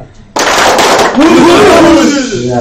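A group claps together in a two-beat pattern, with sharp loud bursts of claps followed by voices shouting and calling out.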